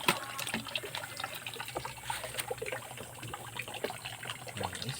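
Freshly caught shrimp and fish being washed in water, with a soft continuous splashing and trickling, faint and steady throughout.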